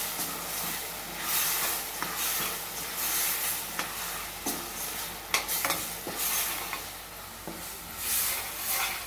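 Chili powder being stirred into food frying in a pan, with a steady sizzle and hiss under repeated scraping stirs of a spoon, close and fairly loud throughout.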